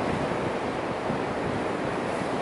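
Waves wash steadily onto a beach under gusty wind on a cloudy, rainy day, a constant broad roar with wind buffeting the microphone and no distinct breaks.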